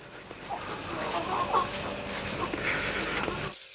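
Chickens clucking softly at a steady, moderate distance against a constant outdoor hiss, with scattered short calls throughout.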